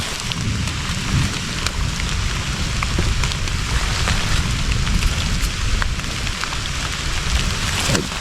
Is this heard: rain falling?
yes